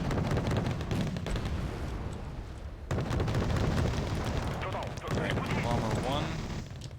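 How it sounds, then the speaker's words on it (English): Tank rounds fired in the strategy game Wargame: Red Dragon, with heavy booming blasts and rumbling battle noise over a dense background while someone talks throughout. "PTZs are firing off their last rounds here"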